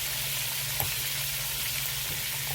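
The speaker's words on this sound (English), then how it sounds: "why keep frying them on that shallow skillet?" Pork chops and chicken fry in a shallow skillet over medium-high heat, giving a steady close sizzle with a few faint stirring clicks and no talk.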